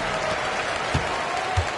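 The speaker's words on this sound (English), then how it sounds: "the crowd looks to cheer on the Heat" A crowd cheers for the Miami Heat in the basketball video game NBA 2K25, a dense, steady wash of arena applause and noise that stays loud throughout, with voices under it.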